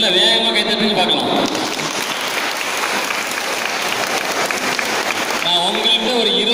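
Audience clapping at a science festival in Oddanchatram: a dense, sustained burst of applause lasting several seconds, loud and close, with a voice speaking briefly before and after.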